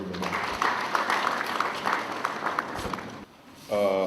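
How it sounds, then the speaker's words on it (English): An audience at a Space Week event gives a round of applause, a dense patter of clapping that tapers off before a voice begins speaking at the end. "Round of applause for Dr. Abu."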